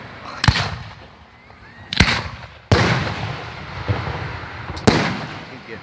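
Fireworks at a 2018 town display in Maroa, Illinois burst in sharp loud bangs, five distinct reports spaced irregularly with crackling tails and outdoor rumble between them.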